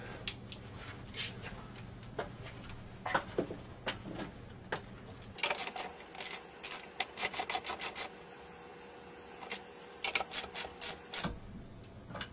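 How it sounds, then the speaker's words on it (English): A 1/2-inch socket wrench tightens a bolt on a wall-mounted pull-up bar, giving bursts of quick ratcheting clicks in rapid runs, fairly close, over a steady background hum. "using the 1/2-inch socket again, we will tighten this guy completely up"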